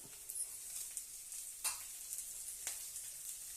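Carrot and other vegetables sizzle in a pan while avalakki is cooked, a faint, steady crackling fry with a few brief louder spurts as they are stirred.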